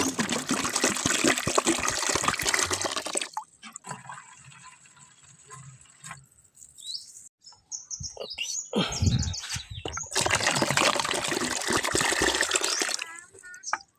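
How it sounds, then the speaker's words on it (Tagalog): Water is poured from gallon containers into a basin for fermenting chicken feed, making loud, close splashing and gurgling in two long bursts with quieter handling sounds between them. "bali 2 galon yung tubig yung ilalagay natin"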